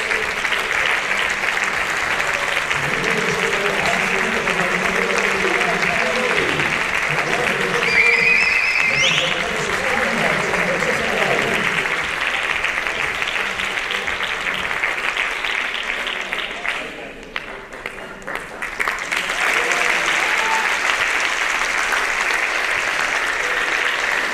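Loud, sustained applause from an audience at a mountaineering federation gala greets an award winner, a steady roar of clapping with a short dip partway through and a speaking voice underneath at times.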